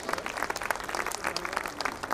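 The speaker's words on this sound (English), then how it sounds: "So I think you can clap for these achievers." A school annual function audience gives dense, steady applause for student achievers, many hands clapping loudly and continuously throughout.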